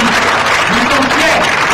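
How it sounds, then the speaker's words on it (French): Loud, dense applause from an audience at a third-anniversary event, with continuous clapping and crowd voices blending together through the short moment. "Je vous demande vraiment de l'applaudir très fort"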